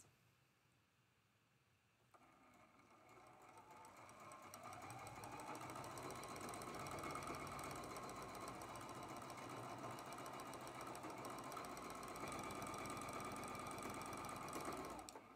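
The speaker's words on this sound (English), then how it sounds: "We're going to sew those seams with a quarter inch seam allowance." A sewing machine stitches quarter-inch seams on a traditional Louisiana quilt block. After a quiet start it runs as a steady, close mechanical whir with a rapid needle chatter, holding at an even level to the end.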